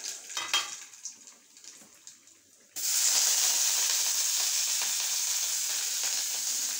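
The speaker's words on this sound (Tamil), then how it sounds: "கடுகு போட்டாச்சு, கருவேப்பிலை போட்டு வெங்காயம் போட்டாச்சு." Mustard seeds, curry leaves and onion hit hot oil while tempering a bottle gourd lentil dish. A faint stir comes first, then a sudden loud, steady sizzle hisses close up to the end.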